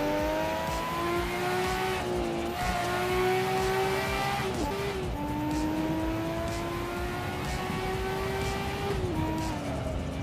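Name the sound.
race car engine driving in Assetto Corsa video game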